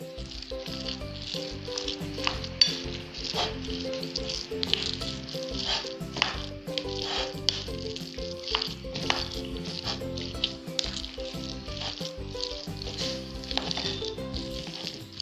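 A spicy cutlet filling sizzles and fries in a pan while being stirred, a steady loud hiss with repeated scraping strokes and clinks throughout, with no voices.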